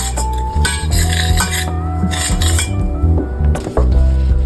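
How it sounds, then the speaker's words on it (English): A spoon scrapes and clinks against a saucepan while melted butter and all-purpose flour are stirred into a roux, steady and close with repeated metallic taps. "After the butter is melted, we'll add in 1 tablespoon of all-purpose flour. And now we'll mix that up a bit."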